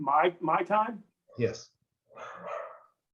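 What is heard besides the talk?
dog barking during online meeting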